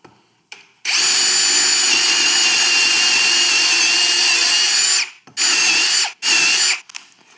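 A Ryobi brushless cordless drill with a 4 amp-hour battery whirs loudly at high speed for several seconds, stops, then runs in two shorter bursts before falling quiet.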